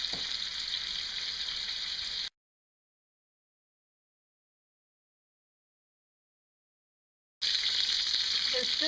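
Chicken thighs sizzle skin side down in a hot cast iron skillet with a steady bright crackle, cut off by a stretch of silence before the sizzling resumes.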